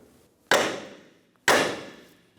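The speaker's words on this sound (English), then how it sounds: "We're going to hit right here with a hammer to release the ball joint out of the knuckle" A hammer strikes the steering knuckle of a 2003-2007 Infiniti G35 during front wheel bearing work to release the ball joint, two sharp metallic bangs about a second apart, each ringing briefly before fading.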